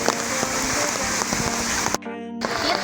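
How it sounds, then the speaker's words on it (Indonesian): Heavy rain falls steadily on the way to the Curug Telu waterfall, a dense, continuous hiss of downpour that drops out briefly near the end before returning. "bertepatan sekali dengan hujan yang cukup deras ya"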